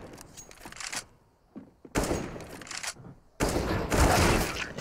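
AK rifle gunfire in a CS:GO match on the Mirage map, with several bursts of shots separated by near-silent gaps and the final volleys loudest.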